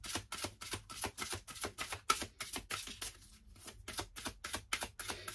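Oracle cards are drawn and handled from a deck, a quiet run of quick papery flicks and taps that go on steadily with a short pause partway through.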